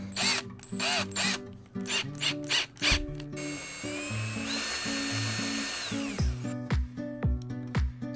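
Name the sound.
power drill drilling a hole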